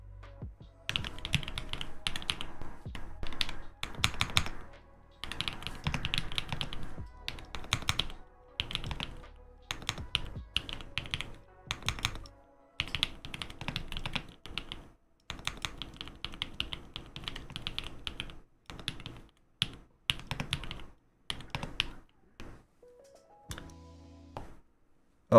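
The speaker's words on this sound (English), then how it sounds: "So these are using the blue cheese switches" Rapid bursts of typing on a QK Split Alice mechanical keyboard fitted with clicky blue switches, crisp close clacks in uneven runs separated by short pauses, with no talk.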